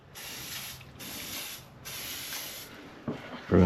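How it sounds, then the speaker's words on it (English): WD-40 sprayed onto a reusable intake gasket on a Mercedes E350 3.5L engine, three steady hissing bursts close by, each about a second long, followed by faint handling clicks and a louder knock at the end. "you just want to simply spray a little WD-40 on it"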